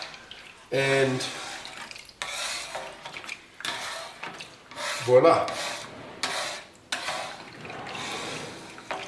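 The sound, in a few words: water draining into the drip tray of a Silex GTT10 grill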